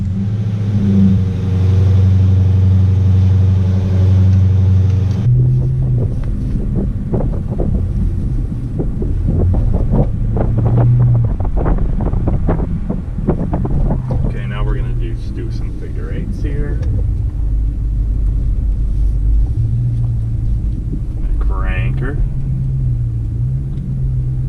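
A Dodge Charger engine starts and then runs and drives, a steady low rumble with shifting tone, accompanied by wind buffeting, with a few faint sounds on top.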